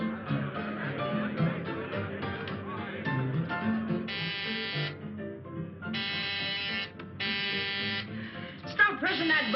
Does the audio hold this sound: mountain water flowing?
no